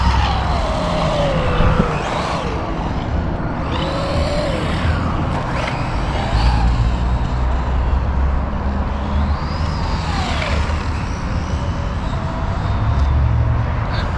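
Traxxas RS200 RC car driving at moderate throttle, a steady buzzing electric motor whine that rises and falls in pitch as it speeds up and slows, continuous and fairly loud throughout.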